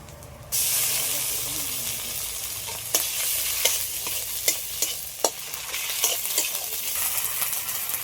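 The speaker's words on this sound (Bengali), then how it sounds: "এবার এর মধ্যে দিয়ে দিচ্ছি পেঁয়াজ কুচি পেঁয়াজটা একটু হালকা করে ভেজে নিয়েছি এর মধ্যে দিয়ে দিচ্ছি আদা রসুন বাটা" Ginger garlic paste hitting hot oil with lightly fried chopped onions for cauliflower biryani: a sudden loud hiss erupts after a brief quiet moment, then settles into a sustained sizzle punctuated by several sharp spatula taps.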